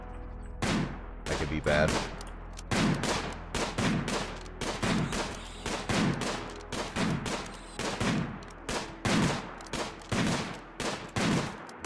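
Shotgun blasts from hunting in the colony-building game Rimworld ring out in a steady series of about fifteen sharp reports, spaced under a second apart, with a voice briefly talking over them.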